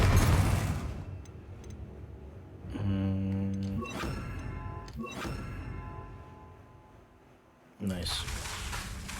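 Confringo blasting spell explosions in Hogwarts Legacy on PS5: muffled thunks and bursts landing a few seconds apart, with ringing tonal effects between them and a heavier blast near the end, over a steady game background.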